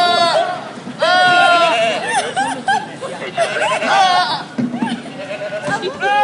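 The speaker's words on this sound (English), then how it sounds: "Goats yelling like humans." Several goats let out harsh, human-sounding yelling bleats in quick succession, loud and close, with bursts of laughter and chatter from people mixed in.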